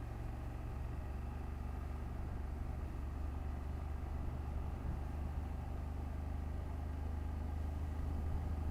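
BMW F800GS motorcycle engine while riding and shifting up, a steady, low, close rumble with a constant drone and no clear pauses, heard alone.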